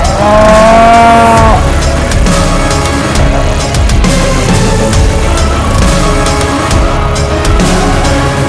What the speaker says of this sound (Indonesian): Mas Irfan pemecah rekor tahun ini, pengorban sapi terbesar di Indonesia